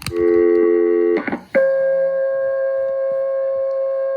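A 1969 telephone off-hook warning tone blasts loudly, a harsh steady multi-pitch howl that breaks off briefly, then resumes at a new pitch with a fluttering quality, sounding alone.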